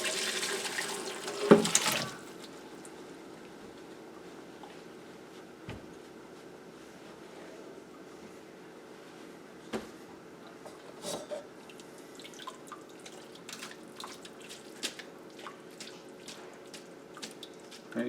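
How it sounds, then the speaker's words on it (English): Homemade chicken broth is poured through a strainer into a bowl in a kitchen sink. A brief, fairly close gush of liquid is followed by faint scattered drips and trickles. "now I'll just bring my broth over and we'll strain it down through"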